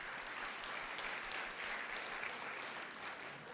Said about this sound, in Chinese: 拍手欢迎，欢迎来。